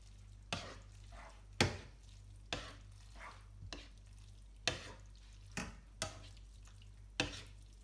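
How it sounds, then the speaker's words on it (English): Spaghetti puttanesca sauce of tomato, capers, anchovies and onion stirred in a pan: about ten distinct spoon knocks and scrapes at a loose, roughly one-per-second rhythm, close and fairly quiet over a low background hum. "Give it a good stir."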